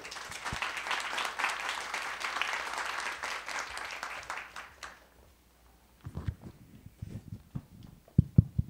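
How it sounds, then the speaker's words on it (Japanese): Audience applause greets speaker Shinichi Takemura at a talk event, a sustained wash of clapping for about five seconds that drops off, followed by scattered handling knocks and low sounds. "それでは盛大な拍手でお迎えください"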